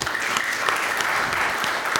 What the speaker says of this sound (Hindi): आप सब एक बार खुद के लिए तालियां बजा दीजिए।